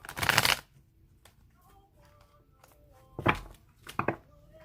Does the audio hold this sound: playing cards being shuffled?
yes